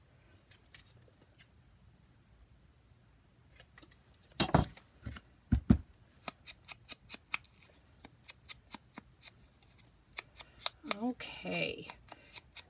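Scissors snipping through a single sheet of cardstock for a junk journal, with a string of crisp close blade clicks and cuts spaced through the stretch and a brief rustle of paper near the end.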